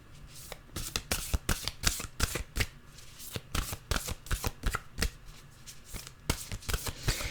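Nature's Whispers oracle cards being shuffled by hand, a rapid close series of crisp riffling flutters and slaps in an irregular rhythm, fairly loud with no talk.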